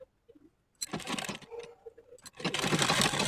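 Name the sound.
sewing machine stitching salwar fabric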